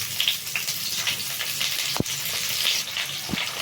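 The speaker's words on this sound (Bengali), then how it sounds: "ফোড়নগুলি বেশ ভাজা হয়ে গেছে, এবার পেঁয়াজগুলোকে ছাড়ছি।" Onions go into hot oil with whole spices for a chicken dish, raising a steady loud sizzle with brief stirring clicks and scrapes; no voices.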